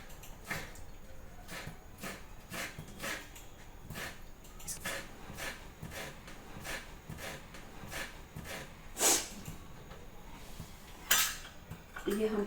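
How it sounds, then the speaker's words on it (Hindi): Knife chopping green chillies and garlic on a board in a Garhwali home kitchen, a quick series of close, sharp taps with a few louder knocks, no talking. "अब हम हरी मिर्च को कट करेंगे, और जो है लहसुन को भी हम कट करेंगे या उसे थीचेंगे।"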